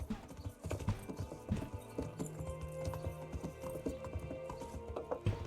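Horse hooves clip-clopping in the medieval game Kingdom Come: Deliverance, a steady close trot of hoofbeats over in-game ambience and faint music, with an occasional snort.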